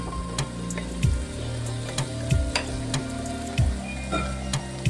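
Shrimp fry in a hot pan with a steady sizzling hiss, broken by periodic scraping knocks from stirring roughly every second and a half.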